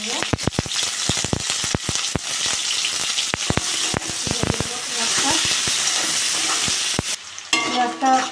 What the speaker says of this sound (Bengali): পেঁয়াজ আর কাঁচা লঙ্কাটা ভেজে নিয়েছি।